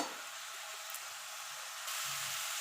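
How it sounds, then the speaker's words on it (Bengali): Shankar fish and potatoes fry together in a pan, giving a constant bright sizzling hiss that grows slightly louder near the end, with no talking. "এবার আলুর সঙ্গে আরও মিনিট খানিক কষিয়ে নেব"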